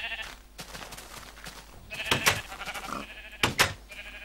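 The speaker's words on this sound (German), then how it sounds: "Ein kleines gelbes Schaf." Sheep bleating in the Minecraft video game, a few short, nasal bleats in bursts over a soft background hum, close and fairly clear.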